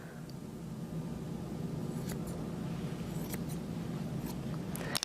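Large shears snip hair during a short business haircut, soft crisp cuts scattered over a low steady background hum, with a sharper snip right at the end.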